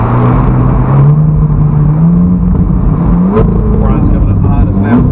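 A Ferrari cruises at low speed through a school zone, its engine droning steadily up close and climbing in pitch as it gently accelerates. A voice speaks over the engine.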